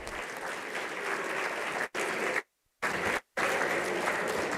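Sustained audience applause at a panel discussion, a dense, steady clatter of many hands, cut by two short dropouts to silence before resuming at full strength.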